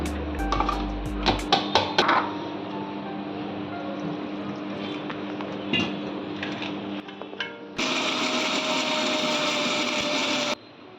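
Kitchen mixer grinder grinding tamarind, two chillies and coconut for a Konkani GSB fish thali: clicks and clatter of loading the jar, then a loud, steady whirring grind lasting about three seconds before cutting off.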